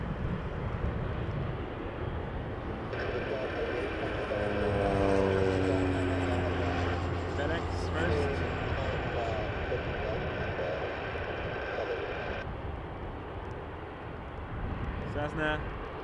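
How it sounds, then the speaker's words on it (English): A Cessna 208B Super Cargo Master turboprop, a FedEx feeder arriving from Timmins, lands at Toronto Pearson with a steady propeller drone and rising-falling whine over loud airport ambience, while people talk nearby. "208B Super Cargo Master coming in from Timmins"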